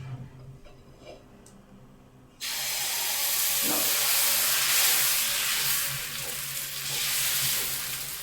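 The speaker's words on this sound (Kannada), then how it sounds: "ಹಾಕೋಣ ದೋಸೆ ಇವಾಗ" Millet dosa batter hits a hot griddle and bursts into a loud, sudden sizzle after a quiet moment, then keeps hissing steadily with a slight swell and dip.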